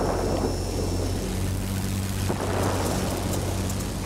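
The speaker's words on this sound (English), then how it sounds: "And the engine's running again." A Ki-84 fighter's piston engine in a video game drones steadily and loudly throughout, a continuous propeller rumble with a rough, wind-like hiss over it and no talking.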